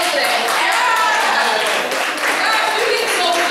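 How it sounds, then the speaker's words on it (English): An audience claps enthusiastically after a poetry reading, with a loud, dense wash of hand clapping mixed with voices calling out and cheering close by. "Great job! Clap for that!"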